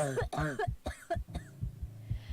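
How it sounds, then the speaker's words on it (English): A series of harsh, wet coughs bursts out close by, several in quick succession before tapering into quieter rhythmic pulses. "A coughing racks my body"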